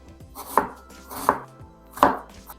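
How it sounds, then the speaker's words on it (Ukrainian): Three distinct knife chops dice an onion on a cutting board at a slow, uneven pace, close up and crisp, with quiet handling noise between them. "Тепер потрібно нарізати пів цибулини невеличким кубиком."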